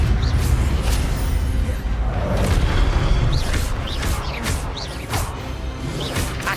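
Spell effects from the Hogwarts Legacy video game as Levioso is cast: repeated magical whooshes and bright crackling bursts over a steady low rumble, loud and continuous throughout.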